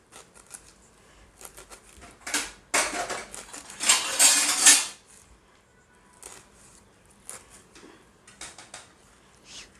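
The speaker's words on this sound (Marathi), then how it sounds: "हे बघा आता मी कोथिंबीर कढीपत्ता कापून घेते हां" Coriander and curry leaves being cut, a burst of crisp snipping and chopping in the middle with lighter scattered clicks before and after, close and fairly loud.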